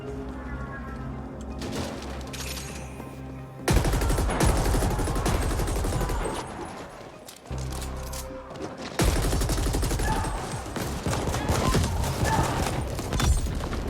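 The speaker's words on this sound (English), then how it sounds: "That's the cool assault rifle that I wanted to buy." An assault rifle in The Ascent fires in long, rapid, loud bursts, with brief pauses between strings of shots and a mechanical rattle throughout.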